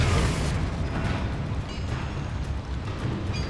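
Explosive Confringo spell blast in the Hogwarts Legacy video game, a dense booming rumble that fills the clip at close range with no voices, fading slightly after the first half second.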